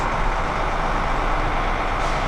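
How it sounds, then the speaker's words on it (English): Buses idle and move around a busy bus staging area in Atlanta, a steady, dense engine rumble with broadband traffic noise that stays loud and constant throughout, with no voices. "we always have the bus noise behind us too"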